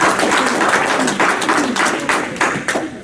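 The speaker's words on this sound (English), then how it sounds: "So let's give him a great big round of applause." Applause from an audience at a sales training session, a steady dense wash of many hands clapping at close range for about three seconds, tapering slightly at the end.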